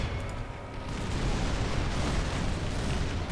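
Artillery fire in the Call of Warhammer battle game, a dense continuous roar of rumbling booms and bursts with no clear separate shots and no talking.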